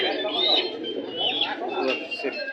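Pigeons coo and murmur close by at a pigeon market in Bangladesh while a voice talks over them, a steady bird chatter running through the whole moment.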